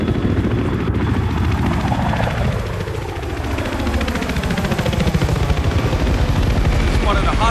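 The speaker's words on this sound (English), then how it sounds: "Spotted a hostile helicopter." A hostile helicopter in the video game Battlefield 3 thunders close by with loud, continuous rotor chop, and gunfire mixes into the din.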